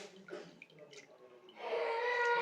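Toor dal rinsed in a vessel of water: soft handling noises and a faint voice at first, then a louder swishing and sloshing of water through the grains in the final second.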